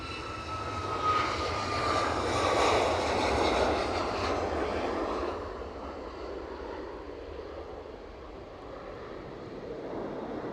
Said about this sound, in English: So Ryanair departing for Prague, if I've clicked on the right one.